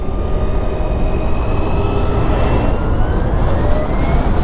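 A BMW CE 04 electric scooter on a test ride emits odd whining tones that rise and fall over a steady loud rush of wind and road noise, heard up close from the rider's position with no talking.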